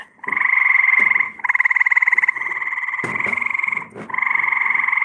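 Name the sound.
frogs croaking loudly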